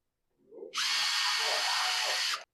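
Cordless power drill backing screws out of a Craftsman 40 volt string trimmer during a repair, one loud close whine lasting under two seconds, preceded by a faint low murmur.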